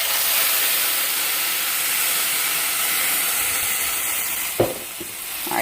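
Chile puree hits a hot pot and sends up a loud, steady hissing sputter, closing with a few sharp splattering pops.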